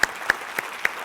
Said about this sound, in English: please join me in a round of applause for our sponsors